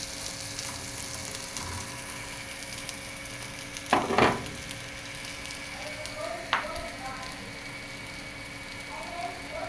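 Akki rotti, a rice flatbread, frying in a pan just after being flipped, with a steady low sizzle throughout and a couple of brief clatters from handling the pan.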